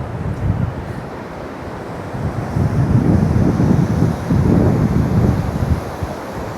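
Pacific Ocean surf rolls in with a continuous, loud roar of breaking waves while gusting wind buffets the microphone, with no voices.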